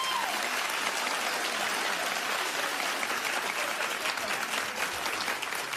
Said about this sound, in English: Clap if you think she should not say one word.